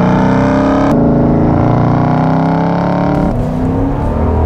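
A 2022 Jeep Grand Wagoneer's naturally aspirated 6.4-liter 392 V8 revs loud and close, its deep harmonic engine note rising steadily through a gear, briefly dipping, then climbing again under acceleration with no talk.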